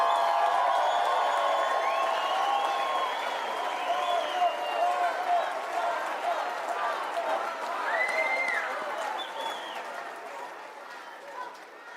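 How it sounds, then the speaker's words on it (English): Audience applause and crowd cheering for a politician at a CPAC political conference, a broad steady wash of clapping with whoops that slowly fades, with voices mixed in. "I have my older brother clapping for me here in the stage"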